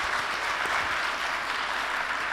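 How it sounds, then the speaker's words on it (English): A studio audience applauds at the close of a fun podcast session, a dense, steady wash of clapping that holds at an even level throughout. "Can we hear a round of applause?"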